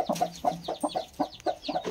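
A hen clucks in a quick, repeated series of short calls, close and clear, with no talking.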